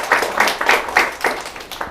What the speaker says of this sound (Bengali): আবারও হাততালি হবে।